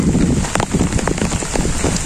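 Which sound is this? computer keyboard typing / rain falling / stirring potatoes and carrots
rain falling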